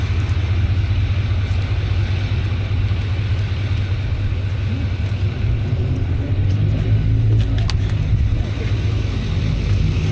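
A 2026 Chevrolet 3500 pickup with a Duramax diesel and Allison transmission idles nearby, giving a steady, loud low rumble that holds without pause for the whole stretch, with no voices over it.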